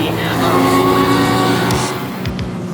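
Vintage road racing motorcycles launch together from the start of an AHRMA race, a loud droning chorus of engines building in pitch, with a voice talking over the roar.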